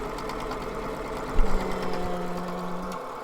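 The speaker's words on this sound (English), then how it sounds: "we're going to start regular setting on your sewing machine. Start it" A sewing machine hums and rattles steadily at close range, with a brief clunk partway through and a sustained motor whine.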